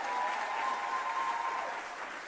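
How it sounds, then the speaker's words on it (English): An audience applauds graduates at a ceremony, a steady, dense wash of clapping that holds at an even level throughout and tapers very slightly at the end, with no voices over it. "let's give one more hearty round of applause to the graduates."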